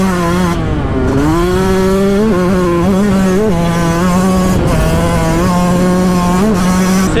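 A 2022 Yamaha YZ125 two-stroke dirt bike engine revs loudly and close, its high buzzing pitch rising and falling in repeated throttle blips.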